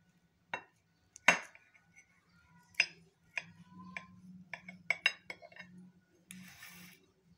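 Potato sandwiches are sliced on a plate: sharp, sparse clinks and taps of a knife against the plate, close and quiet, with soft cutting scrapes between the strikes.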